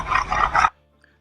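Dog growling close and loud in three rough pulses that stop abruptly, followed by near silence.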